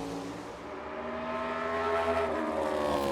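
Denny Hamlin's NASCAR Cup race car at speed on a qualifying lap during the Bass Pro Shops Night Race event, a steady, loud engine drone that holds close and constant for the whole stretch.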